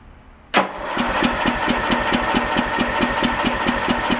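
An old tractor engine, one built from two junk machines, cranks and catches abruptly, then settles into a steady, loud idle with an even, rapid firing pulse close by.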